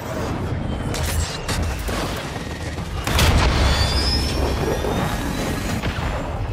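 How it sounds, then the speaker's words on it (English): A cruise missile strike in the video game Modern Warfare II: a loud, continuous roaring rumble with a whining streak, swelling into a heavier blast about halfway through and then sustained. "I'll go with my cruise missile."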